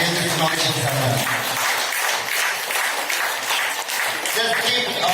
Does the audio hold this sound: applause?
yes